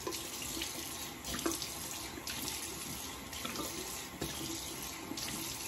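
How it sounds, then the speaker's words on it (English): Steady tap water runs continuously into a sink, with faint splashes and clinks as a razor is rinsed under the warm stream. "All right, warm water rinse."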